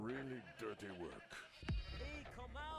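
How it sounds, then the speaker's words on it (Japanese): Goats bleat in the video game Payday 2 during a goat-stealing heist, several wavering cries rising over steady game sound while players talk over them. "前回助けたヤギがみんなそこに。"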